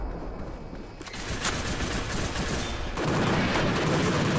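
Rapid gunfire from a gun in a video game, a dense, continuous burst of shots that swells louder in the final second, heard alone without talk.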